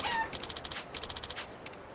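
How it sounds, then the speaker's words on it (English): A chicken in the video game Like a Dragon: Infinite Wealth clucks in a short series of quiet, rhythmic bursts, faint and alone with no talk. "Hello, chicken."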